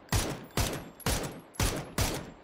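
Five loud Dragunov sniper rifle shots in the PUBG video game, fired at an even pace about half a second apart, each a sharp crack with a short echoing tail, and no talking.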